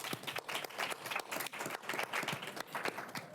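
A panel-event audience applauds in a brief patter of clapping that sounds fairly faint and distant, with no talking over it.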